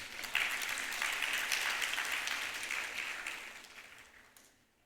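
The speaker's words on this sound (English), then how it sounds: "Can we have a round of applause for them, please?" An audience at a student-hosted opening ceremony claps steadily for several seconds, a dense wash of applause that fades out at the end.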